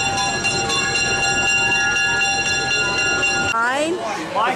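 Passenger train at Edaville Railroad in Massachusetts, with steady rolling rumble and bright whistle or horn-like tones held for several seconds, then cutting off to a short voice; moderately loud and close.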